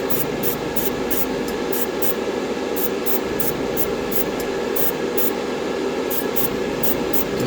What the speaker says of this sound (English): Now I'm going to spray the alclad chrome onto the parts